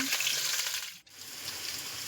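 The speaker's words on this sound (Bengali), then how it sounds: "আলুগুলো এবার আমি ভেজে নেবো" Potatoes fry in oil with a bright, continuous sizzle that briefly drops away midway, as if stirred or lifted, then resumes at a steady level.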